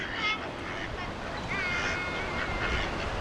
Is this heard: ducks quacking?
yes